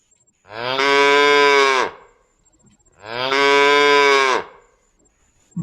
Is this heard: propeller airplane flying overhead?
no